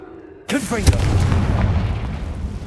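A Confringo spell blast in Hogwarts Legacy bursts out suddenly and loudly, with a sharp crack that trails into a long rumbling roar. Faint sound is heard before the blast.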